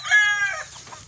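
A chicken on a farm lets out a short, loud, raspy squawk up close, followed by fainter clucking.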